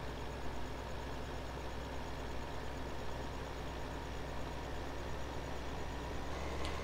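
Tractor engine in the farming video game Farming Simulator 15, a steady low idling drone that holds at an even level throughout, with no speech over it.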